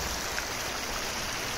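Khairi River stream in Similipal National Park, Odisha forest, flowing with a steady broadband rush of water, close and continuous for a short stretch with no voices.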